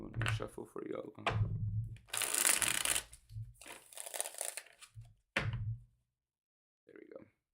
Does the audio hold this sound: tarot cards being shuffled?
yes